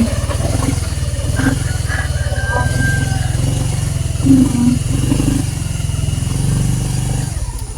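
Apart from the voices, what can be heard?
motorcycle riding through deep flood water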